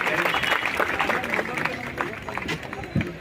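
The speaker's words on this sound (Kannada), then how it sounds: "ಅವ್ರ ಮೊದಲ ಜೋರಾದ ಚಪ್ಪಾಳೆ ಮುಖಾಂತರ ಸ್ವಾಗತ" An audience at a village religious festival claps to welcome a guest. The applause is steady and fairly loud, with crowd murmur throughout and voices mixed in.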